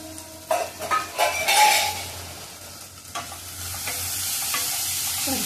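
Chopped chillies and onion stirred and frying in a pan for saatdhari bhendi, a steady soft sizzle with scraping spoon strokes and light clinks of cookware, close and without talk.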